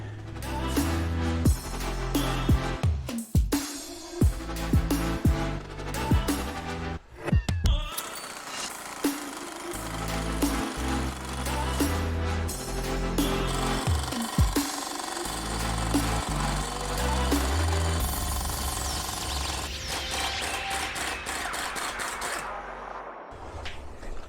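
A ball joint pin is pressed into a part from a Mercedes W211, making harsh, loud mechanical grinding and rattling bursts with intermittent knocks, then a sustained metallic whine near the end.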